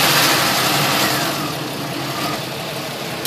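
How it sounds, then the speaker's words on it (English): A 3.1/3.4 liter engine runs while its coolant system is bled, a loud, close, steady broadband hum with a slight revving rise at the start that settles to a constant idle. "Let it run a little bit, accelerate the idle."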